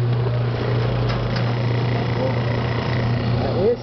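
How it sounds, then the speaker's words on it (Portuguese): Small washing machine (tanquinho) motor running steadily on a test with a plastic pulley, giving a constant low hum and rattle under someone talking close by. "Esse é o teste, para você testar o motor."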